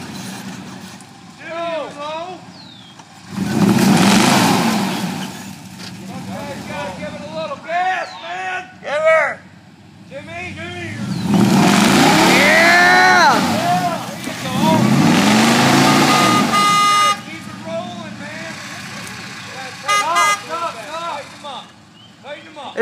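A stuck Chevy truck revs hard in a backyard, engine surging and falling in loud repeated bursts with tyre and strain noise, while people shout and talk nearby.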